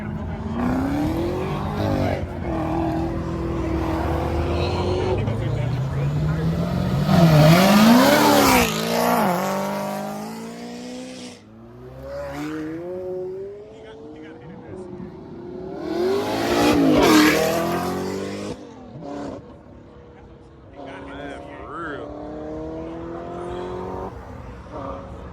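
A car engine revs and accelerates hard at half throttle twice at a car meet, pitch climbing through the gears with a tire squeal, loud and close, speech in between.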